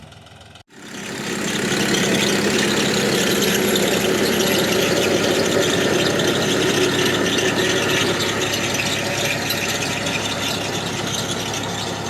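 A tractor digging seed potatoes in rear-wheel drive with the front axle disengaged, pulling a digger through the field; a loud, steady mechanical roar and rattle runs continuously after a brief gap at the start.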